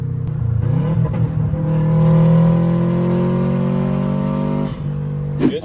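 An engine-swapped Subaru GC8 revs during its first startup on a new exhaust, a loud, close engine note that rises and holds steady, with short sharp blips near the end.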